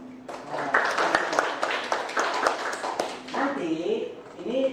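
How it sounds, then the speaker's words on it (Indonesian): Students in a computer hardware class give a short round of scattered applause with voices mixed in, the claps dense for a few seconds before dying away into talking. "Tepuk tangan dong."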